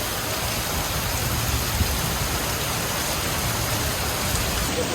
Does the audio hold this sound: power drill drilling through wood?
no